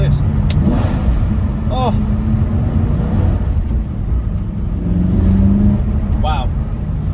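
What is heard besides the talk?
BMW E92 M3 engine revving on throttle blip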